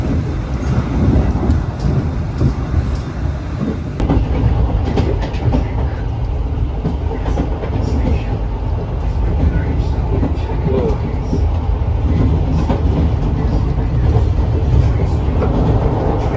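Stainless steel economy passenger train, KA Bogowonto, rolling into Bekasi station, a steady loud rumble of wheels and carriage noise filling the whole stretch, with faint talk mixed underneath.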